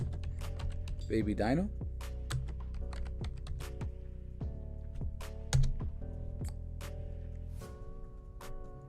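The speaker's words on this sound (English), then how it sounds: "I'm gonna type in Bad" Computer keyboard typing in short bursts of crisp close keystrokes, with someone speaking briefly over a faint background hum.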